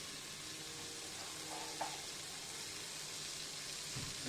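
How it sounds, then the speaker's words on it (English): Curd fries in a vessel while haleem is cooked, a constant hissing sizzle with a soft clink of a utensil partway through and a light stirring scrape near the end. "So now the curd is also nicely fried."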